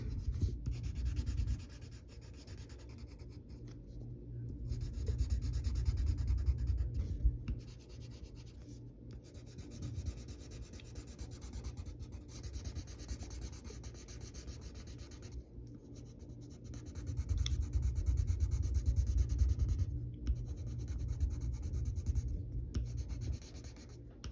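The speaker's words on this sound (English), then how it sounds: "with the side of your pencil, you can color in this area of his body" A pencil shades paper with the side of its lead in long, steady scratchy rubbing strokes, broken by short pauses, close and fairly quiet with no talking.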